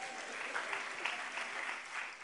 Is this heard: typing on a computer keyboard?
no